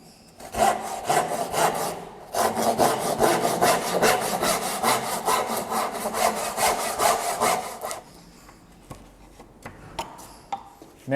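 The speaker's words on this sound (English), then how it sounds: "that's how I would cut that dovetail using only handsaws" A handsaw rasps through a wooden dovetail on a budget split-top Roubo workbench, with loud rhythmic back-and-forth strokes for about eight seconds, then a pause and a few light taps and scrapes.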